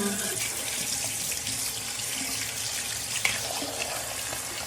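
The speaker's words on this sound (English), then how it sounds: "Let me go ahead and take these out, rinse them," Dental retainers rinsed under a running bathroom tap, a steady close rush of water splashing into the sink without a break, with a brief faint knock partway through.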